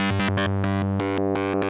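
A wavetable synth, driven through a compressor and distortion, plays a loud buzzy harmonic tone in choppy rhythmic pulses, with a bright, gritty edge and shifting brief gaps across under two seconds.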